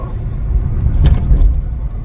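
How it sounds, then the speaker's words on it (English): A truck bounces along a rough road, its low engine rumble steady and loud with jolts and knocks from the bumpy ride, no voices over it. "you're in the bouncy truck again."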